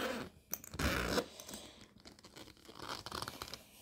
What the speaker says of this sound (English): the zipper, nice smooth zipper, great zipper pulls on it